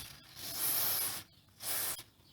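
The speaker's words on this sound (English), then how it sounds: "I like to take white lithium grease and I like to spray a little bit on the underneath of the back side of the" An aerosol can sprays white lithium grease onto an RV trailer hitch ball in two close, loud hissing bursts of about half a second each, separated by a short pause.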